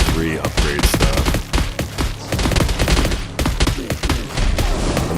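Defensive turrets in a tower-defense style video game firing rapid, dense volleys of sharp shots, loud and continuous for several seconds with thuds mixed in; a voice may be faintly present underneath.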